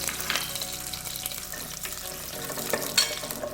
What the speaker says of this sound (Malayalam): കറിവേപ്പില ചേർക്കാം.